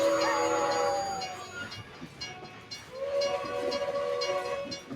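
A train rumbles along in the Final Fantasy 14 Rival Wings PvP battle, with a long steady whistle tone sounding twice over continuous rolling noise, close and fairly loud.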